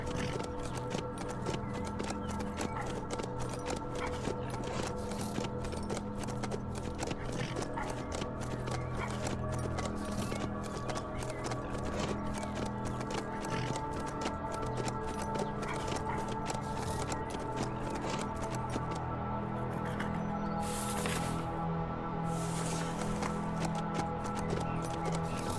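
Horse galloping in the survival video game HumanitZ, a steady rapid drumming of hooves running throughout, mixed with game ambience and low-level rumble at a moderate, even volume.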